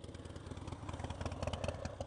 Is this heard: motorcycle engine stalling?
yes